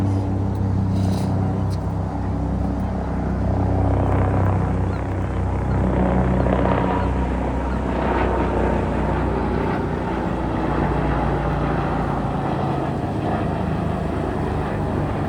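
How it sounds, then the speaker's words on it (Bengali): A helicopter passes over the Seattle downtown waterfront by the aquarium. Its rotors make a steady, loud, broadband whir that lasts the whole time and blends with city traffic rumble. "হেলিকপ্টার যাচ্ছে, ওই আসছে দেখো"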